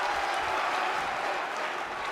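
Wrestling crowd at an NGW TV event cheering and applauding for Piper Fox, a steady, dense roar of clapping and shouting that fills the arena throughout.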